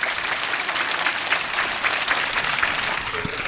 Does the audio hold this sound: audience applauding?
yes